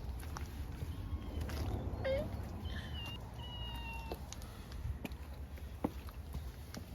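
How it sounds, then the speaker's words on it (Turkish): A cat gives a few faint, short meows in a quiet outdoor setting with soft background noise and occasional light clicks. "Çok tatlı kedi dostlarımız var."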